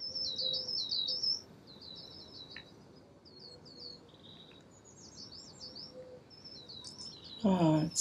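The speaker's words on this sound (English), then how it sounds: "the bird song is fantastic" Birdsong in Alba: A Wildlife Adventure, with bright, rapid chirping phrases repeating over a soft outdoor ambience, pausing midway before a louder, closer burst of calls near the end.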